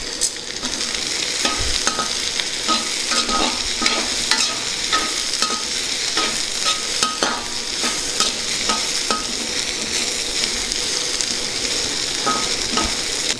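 Tempering spices, peppercorns and dried red chillies, sizzle in hot oil for a cabbage curry while a spoon stirs them in frequent rhythmic scrapes against the pan, close and continuous, with no speech.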